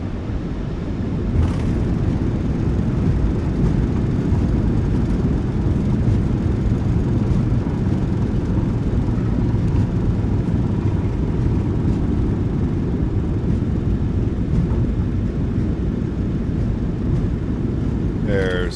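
Thrust reversers of a Boeing 737-900ER roaring during landing rollout in the MSFS2024 flight simulator, a steady broadband engine rush that holds loud and even for the whole stretch, with a voice briefly over it.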